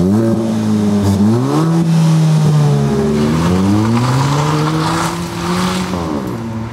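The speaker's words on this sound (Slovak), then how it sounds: "jeho ťah, jeho zvuk dotvára aj krásne ladený športový výfuk" A Kia ProCeed GT 2022 with a 1.6 engine and sport exhaust accelerates hard, its loud engine note rising through the gears with distinct shifts and a throaty exhaust, close and alone without talk.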